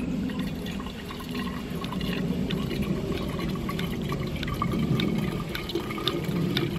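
An MSR Guardian pump filter/purifier fills a second water bottle with a steady, continuous stream of running, pouring water, close and fairly loud throughout, with small drips and splashes on top.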